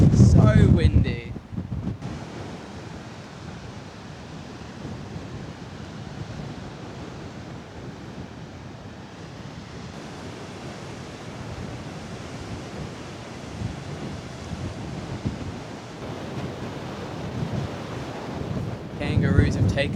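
Strong wind gusts buffet a microphone on a remote coastal beach in Australia, a loud steady roar with surf mixed in, swelling hardest at the start and end.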